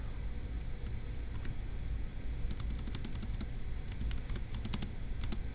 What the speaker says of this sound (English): So let's go ahead and type that up.